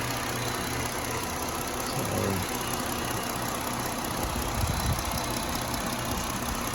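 A 2016 Dodge Durango with the 3.6 engine idles steadily in a workshop setting, producing a smooth, even mid-range hum with a light ticking texture throughout, close and constant with no talking.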